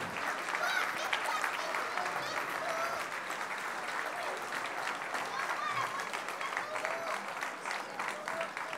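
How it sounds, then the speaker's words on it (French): At the WAC 2019 opening ceremony, a large crowd applauds the Hungarian team with continuous, full clapping, with a voice speaking over it throughout. "Les Hongrois, vous pouvez"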